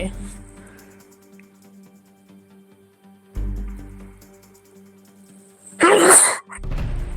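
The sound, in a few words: person sneezing during a live stream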